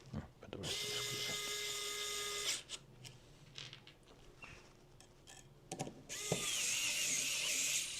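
A power driver drives screws while a Prusa CORE One+ 3D printer is assembled, with loud sustained whirring bursts at the start and end and quieter ratcheting clicks and handling noises in between.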